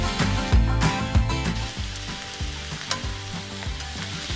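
Red cabbage sizzles loudly in a hot pan as it cooks dark purple before wine goes in, with a steady frying hiss and stirring scrapes and knocks close up, and no talk.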